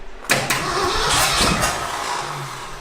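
An old, long-abandoned Ford F250 truck with no carburetor fires up for the first time in 26 years, a sudden loud catch after a short quiet moment, then a rough, steady running roar.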